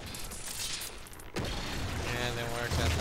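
A grenade blast in the game Halo 4 on the Haven map, a sudden loud boom with a rumbling tail amid gunfire, while someone talks over it.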